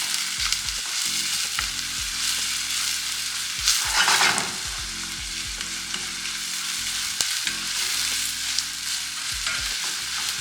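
Chopped bell peppers and onions sauté in a pan for a chickpea curry, giving a loud continuous sizzle with a brief rush of stirring and clatter in the middle and no voices.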